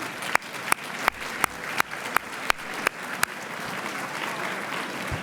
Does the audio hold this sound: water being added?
no